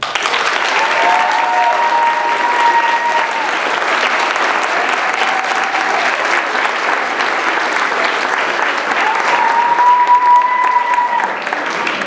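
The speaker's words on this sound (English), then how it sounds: "I would also like us as an audience to thank the judges with applause for being here tonight." Sustained, loud applause from an audience thanking judges at a school debate exhibition, dense continuous clapping over twelve seconds with faint whistles and crowd noise mixed in.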